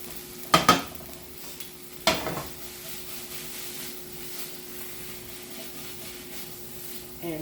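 Kale with garlic being lightly sautéed in a pan, with a few sharp clanks of a utensil stirring against the pan early on over a faint, steady sizzle.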